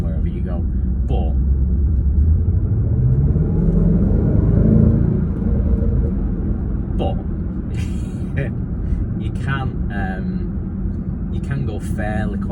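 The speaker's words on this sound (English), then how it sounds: "you can hear it rumbling wherever you go" A 2019 Range Rover Sport SVR engine rumbles low and steady from inside the cabin while the car cruises, swelling briefly as it builds revs, with someone talking over it throughout.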